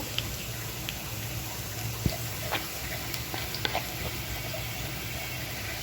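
Onions frying in a pan with spices being added, a steady soft sizzle with faint stirring clicks and scrapes, close and moderately quiet, no talking.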